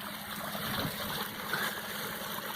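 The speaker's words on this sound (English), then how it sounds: "right outside the entrance to my work by the gate is this beautiful little wet weather creek waterfall" A small wet-weather creek waterfall after heavy rain rushes steadily, a continuous broadband wash of falling water heard close and even throughout.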